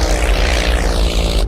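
A propeller airplane engine drones steadily in flight, a loud continuous hum with a low throb running through the whole stretch, no voices over it.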